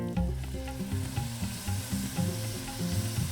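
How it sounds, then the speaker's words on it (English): Tomatoes sizzle and sauté in a pan for a saag paneer, a faint crackling fry with scraping stirs and clinks in an uneven rhythm, with no talking. "Give the tomatoes a good saute, and you want to cook the tomatoes down till it turns into a paste."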